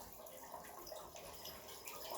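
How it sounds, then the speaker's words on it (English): Extra raw pu-erh tea, a 2012 Yunnan Sourcing "Impression" brew, poured aside from a gong fu session into a big cup, giving a steady, close liquid splash and trickle with no talking. "all my extra tea I pour aside"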